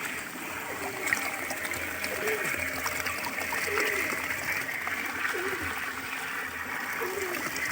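Continuous splashing and running water from a village well close by, with occasional bird calls and voices mixed into the steady wash.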